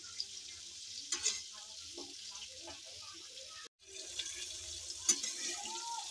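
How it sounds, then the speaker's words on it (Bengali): Steady sizzling of cauliflower frying in a pan, with occasional stirring scrapes and a brief pause midway. "একটু নাড়াচাড়া করে ভেজে নেব ফুলকপিটা।"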